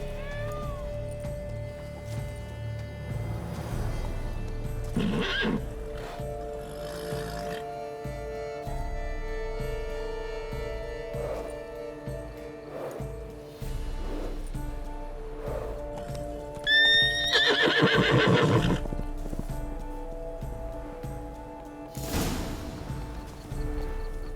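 Horse from The Witcher 3: Blood and Wine neighs and whinnies, a loud burst near the end, with clip-clopping hooves and a faint cat meow earlier over a steady ambient game backdrop.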